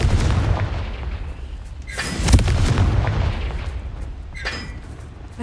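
Heavy booming blasts from the Confringo spell in Hogwarts Legacy, a loud explosion with rumbling aftermath and a second fainter blast later, over a steady low game background.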